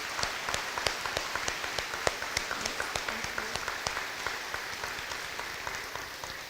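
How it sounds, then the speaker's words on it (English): Audience applause at an elementary school dedication and ribbon-cutting ceremony: a steady patter of individual claps, moderately distant, continuing evenly throughout. "Please give them a round of applause."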